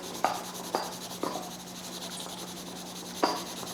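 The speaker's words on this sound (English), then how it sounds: "Just sort of sketch and kind of fill that in there." A pencil sketches and fills in trees on paper, making soft continuous scratching and rubbing with a few brisk stroke accents, close and quiet over a faint steady hum.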